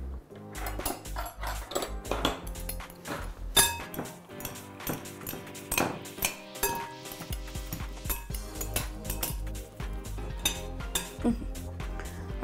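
Steak salad is tossed with sauce in a bowl, a busy stream of close clinks, knocks and scraping of utensils against the dish, with dense irregular rhythm and brief background noise under it.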